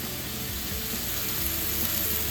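Steady, crackling sizzle of a Devonshire veal chop frying in a hot pan, continuous and close with faint popping throughout.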